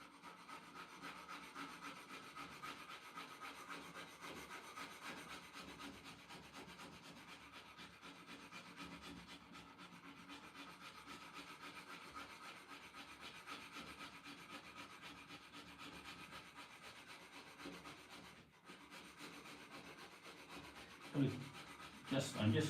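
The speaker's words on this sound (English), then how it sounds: "So using the scraper, I can sort of get rid of those marks very clearly." A steel scraper is drawn lightly across a wood surface, leaving steady continuous rasping strokes close by for nearly the whole stretch and a couple of sharper scrapes at the end.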